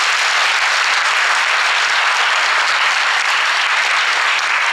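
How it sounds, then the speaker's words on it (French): A theatre audience at the Miss Côte d'Or 2023 pageant applauds loudly, dense and continuous clapping filling the hall at an even level throughout. "on peut les applaudir encore très fort."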